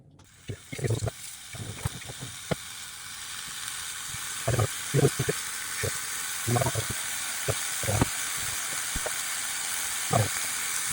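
Homemade sucuk sausages laid in a white pan without oil, giving a continuous hiss and sizzle with repeated clicks and taps of handling above the steady frying.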